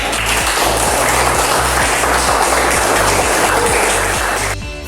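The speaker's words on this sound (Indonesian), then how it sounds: "Kasih aplaus." An audience at a classroom teaching practice session applauds as a presenting group is called forward, a dense, steady wash of clapping that stays loud for several seconds before cutting off abruptly.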